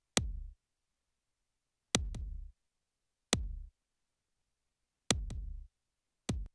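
Saturated parallel hip hop kick drum, heavily driven for grit and snap, struck in isolated punchy hits with short booming tails, some hits doubled in quick pairs, loud and dry with silence between.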